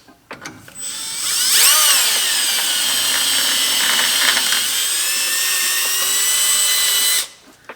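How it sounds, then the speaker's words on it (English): A power drill whirs up and runs steadily for several seconds, its pitch dipping under load as it bites into metal drilling bolt holes on a TH400 transmission, then winds down. "And when you're drilling, you want to try and drill as straight as possible."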